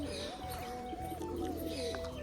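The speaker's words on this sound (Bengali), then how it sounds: "এই পায়রাটা একটা বাচ্চা পায়রা" A young pigeon coos in soft, repeated low calls, fairly close and steady through the short stretch, with a faint chirp or two in the background and no talking.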